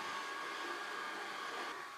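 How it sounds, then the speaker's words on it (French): A Proscenic M9 robot vacuum with a rotating mop pad and 4500 Pa suction runs in combined vacuuming and mopping mode, giving a steady, even whirring hum. "je suis en mode aspirateur et laveur"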